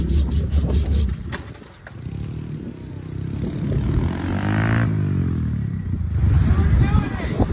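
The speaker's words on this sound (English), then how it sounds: "there's some dude revving something" An engine revs nearby in repeated rising and falling sweeps, with clatter, while a person talks over it.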